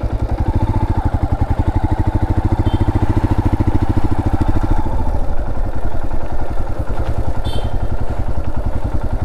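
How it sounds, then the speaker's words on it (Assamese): A motorcycle on a jungle road through a village in Karbi Anglong, Assam, heard as a steady, loud, throbbing engine pulse close by that rumbles throughout, with no voices. "পিছফালে এখন বাইক আহিছে"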